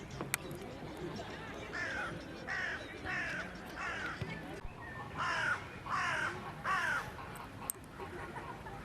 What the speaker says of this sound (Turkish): Burada o kadar çok karga var ki kargadan geçilmiyor resmen.